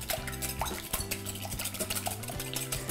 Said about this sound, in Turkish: Yağla yumurtayı bir araya getiriyorum.